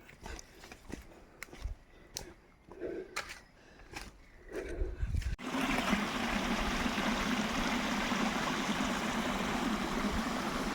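Scattered knocks and clicks give way to a steady, fairly loud rush of a mountain stream heard up close, on Bundok ng Buyabod, San Vicente, Gumaca, Quezon province.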